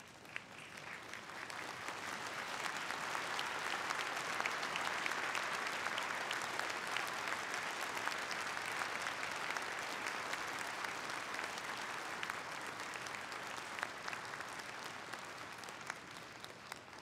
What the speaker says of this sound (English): Again, a big applause to Ms. Shimura.